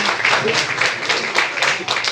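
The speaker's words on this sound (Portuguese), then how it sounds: "Uma salva de palmas para as pessoas que estão aqui prestigiando" Audience applause at a human rights award ceremony: steady dense clapping throughout, moderately loud, with faint voices mixed in.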